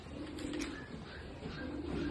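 A pigeon coos softly in a racing pigeon loft, low rolling coos over a steady background hum, fairly close but quiet.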